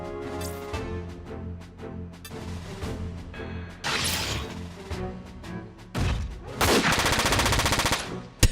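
Heavy mech shotguns blasting in Front Mission 4, loud cracking bursts over a droning game soundtrack, ending in a dense rapid volley and one sharp final shot.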